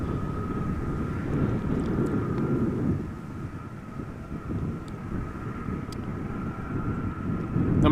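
A Boeing 777 freighter jet at Amsterdam Schiphol airport produces a steady, broad engine roar at a distance, with a faint constant tone running through it and no voices.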